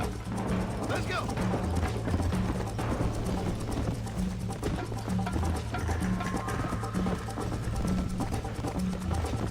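A horse gallops in Red Dead Redemption with a rapid, steady drumming of hooves that runs throughout, mixed with game music and heard under a talking voice.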